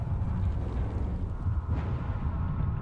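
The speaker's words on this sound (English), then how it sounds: "an explosion in the generator's foundations caused a tunnel collapse, trapping several workers" A deep, rumbling explosion in a generator's foundations in the city-survival video game Frostpunk, heard as a sustained, loud low roar that fills the whole clip with no talking over it.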